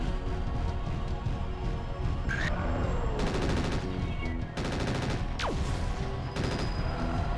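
Missiles and weapons fire in the mech combat game Mechwarrior 4: Mercenaries, loud rapid bursts of launches and impacts stacking into dense volleys, with whooshing streaks and repeated staccato salvos, close and continuous.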